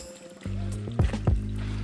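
Hiking boots squish and splash through creek water on a trail, with a few distinct wet sloshing steps following a brief lull.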